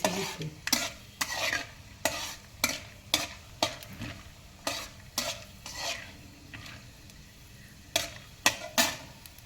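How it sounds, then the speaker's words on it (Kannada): A spoon stirs Maggi noodles in a pan, with repeated sharp scraping strokes against the metal over a soft sizzle, close and rhythmic with brief gaps. "ಅವೆರಡನ್ನು ತಿರುಗಿಸ್ತಾ ಇರಬೇಕು ಸ್ಪೂನಿನ ಸಹಾಯದಿಂದ."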